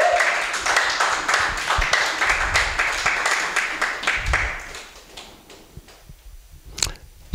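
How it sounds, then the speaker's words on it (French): A church congregation claps along during a French-language sermon, sharp irregular claps that are busy at first, then thin out and fade to a few scattered hits. "Applaudissons si vous êtes d'accord avec moi."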